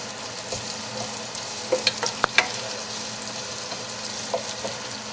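Onions and vegetables sauté in a pan for sweet and sour pork, a steady soft sizzle with a few sharper clicks of stirring near the middle, close and fairly quiet with no talk.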